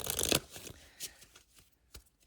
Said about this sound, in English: I'm going to give it a good shuffle.